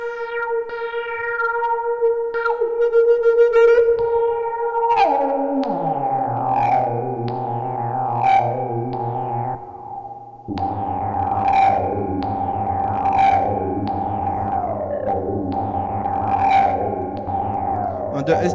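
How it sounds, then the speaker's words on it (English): EOWAVE Quadratic Swarm synth playing a dense, noisy, distorted drone with shifting stacked harmonics and sweeping overtones, steady and loud throughout, jumping in pitch around five and ten seconds, with no voices over it. "So with this Quadratic Swarm, you can do some very clean organ type sounds or more noisy, distorted sound."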